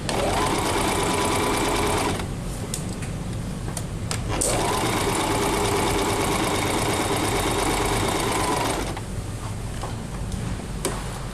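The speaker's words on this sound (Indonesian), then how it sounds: "Setelah jahit sedikit, kita putar ke langkah yang kedua." A Singer 1408 Promise sewing machine stitching fabric, its motor whirring loudly and steadily with a fast ticking needle rhythm, stopping briefly twice before running on.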